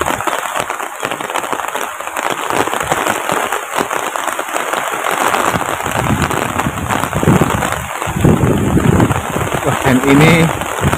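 Steady rain falls in a remote forest village in Central Java, a dense, continuous hiss of drops on surfaces throughout, with gusty wind growing heavier toward the end and a few faint voices in the background.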